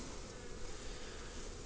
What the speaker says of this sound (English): did you hear that? Look at all them bees!